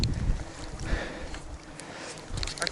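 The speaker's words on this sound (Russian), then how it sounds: "Мотор идет отлично" An outboard motor drones steadily on a small boat travelling down a river, its low rumble mixed with wind buffeting the microphone, with no voices.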